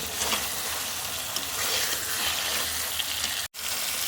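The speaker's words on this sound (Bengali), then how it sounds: "সেজন্য আমি শিং মাছটা একটু বেশ পোক্ত করে কষিয়ে নেব।" Shing fish, stinging catfish, sautés in a pan, giving a steady close sizzle and hiss that runs almost unbroken, with one momentary cut near the end.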